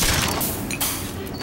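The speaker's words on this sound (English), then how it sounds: "Sniper keeps sniping." Gunfire in Team Fortress 2 while playing as a Sniper: a dense, noisy burst of shots and impacts, loud and fairly continuous over a short stretch, with a brief sharper crack near the middle and no talk.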